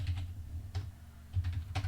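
Quiet clicking of keys on a computer keyboard, a few short irregular bursts of typing close by with no one talking.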